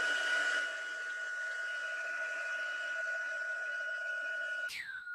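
A hair dryer blows steadily on a desk to dry watercolour paper, a close, constant whirring hum that cuts off abruptly near the end.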